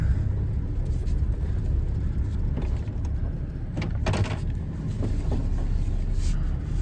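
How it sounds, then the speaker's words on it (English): A Chevy 1500 pickup's V6 engine idles nearby, a continuous low rumble with a few brief clicks and knocks over it, loud and steady throughout. "Hear that raw V6 power"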